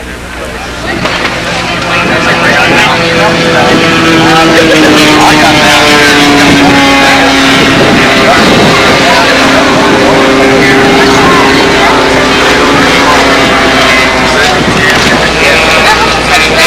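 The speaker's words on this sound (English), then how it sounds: "That Spitfire wide open." An RC scale model Spitfire airplane at full throttle at a windy scale flying event, its engine rising into a loud, sustained whine with shifting pitch as it passes, over wind noise and a voice speaking.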